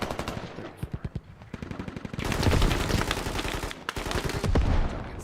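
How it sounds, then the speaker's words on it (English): Insurgent mortars and other weapons fire in a squad-based military shooter game during a territory control match, with rapid bursts of gunfire and booming repeated blasts, loud and dense throughout, no talk. "These Insurgent Mortars are actually helping them defend their own radio from a distance."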